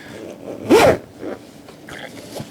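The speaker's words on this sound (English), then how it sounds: "and zip it back up." A zipper on a marsupial hunting multi-pack bag used for turkey season is pulled shut in one quick, close rasping stroke, with quieter handling rustles after it.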